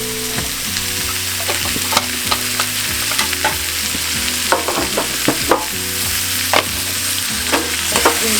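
Spices including black pepper and salt stirred into hot oil, a continuous close sizzle broken by frequent spoon scrapes and clacks against the pan in an uneven rhythm, with a steady background hum and no voices.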